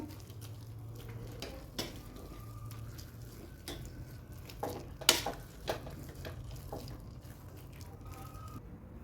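Cooked sweet potato for sheera is mashed in a pan, making soft, irregular squishing and scraping thuds with an occasional sharp utensil clink, quiet and close, with no talking.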